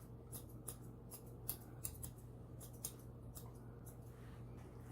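Scissors snip around a standard poodle's topknot during grooming, a series of quiet, crisp cuts in irregular pairs and bursts over a steady low hum, close and faint, with no talking.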